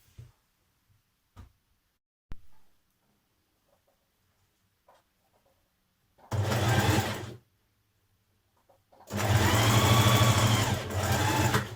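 A sewing machine stitches a sweatshirt seam with a 1.5 cm allowance for a Burda 6246 pattern. A short burst of stitching follows quiet handling noises, then a longer loud run.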